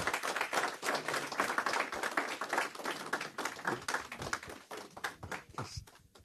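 Sustained applause from an audience at a real estate outlook event after a doctor's speech, dense steady clapping that thins toward the end.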